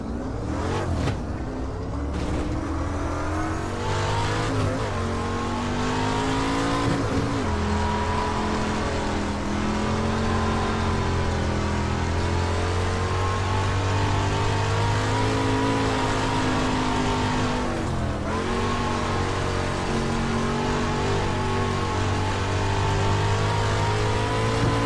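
Street stock race car engine in iRacing, a loud, continuous drone that rises and falls in pitch through shifts and corners, steady and close for the whole stretch with no talking.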